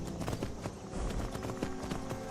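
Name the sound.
horse hooves while riding in Skyrim VR video game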